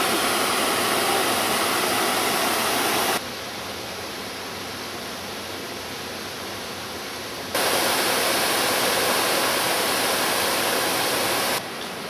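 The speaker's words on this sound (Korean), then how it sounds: "일단 폭포인데" A waterfall on a mountain hiking trail gives off a continuous broadband rush of falling water, loud and steady, with its level dropping and rising again in sections.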